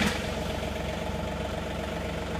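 A tractor engine running at a steady idle with a low, even rumble, fairly close and continuous, no talk over it.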